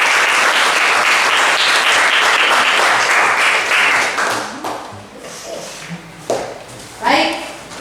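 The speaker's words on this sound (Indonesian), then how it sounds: "Jalan aplaus untuk kelompok." Classroom applause for a presenting student group, a dense burst of clapping for about four seconds that thins into scattered claps and shuffling, with a teacher's voice beginning to talk as it fades.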